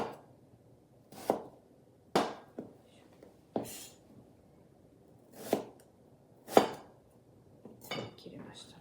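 A knife chops winter melon into thin slices on a cutting board, giving about nine sharp, close, irregular knocks with quiet gaps between them.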